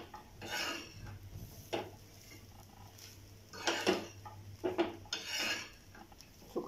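Dry coconut is stirred and sautéed in a pan, with a utensil scraping and clinking against the metal in irregular bursts, close and moderately loud with no voices.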